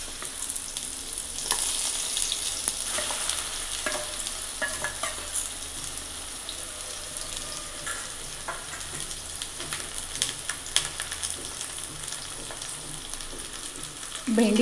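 Okra coated in gram flour batter fries in hot oil on medium heat with a steady, broad crackling sizzle and occasional stirring clinks, with no voices throughout.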